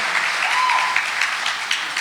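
Sustained applause from a commencement ceremony audience at Lone Star College-Tomball, a steady dense wash of clapping that fills the full two seconds at even loudness, with no voices rising above it.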